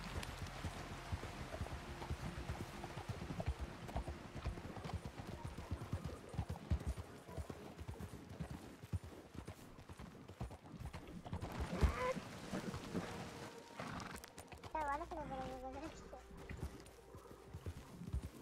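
Horse hooves clip-clop steadily in the Red Dead Online PC game, a moderately loud walking rhythm that goes on throughout, with some game ambience and a brief sound effect near the end.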